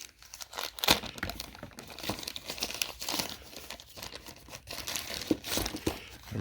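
Crinkling plastic wrapping peeled off a factory-sealed new item, handled one-handed: close, bursty rustles and tearing crackles recurring throughout, with no talking.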